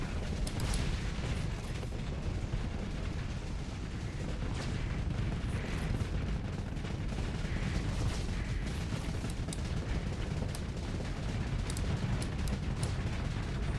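Spaceship guns and missiles firing during a Starsector space battle, a steady dense wash of rumbling weapon fire with scattered sharper shots and impacts, sustained at moderate level throughout.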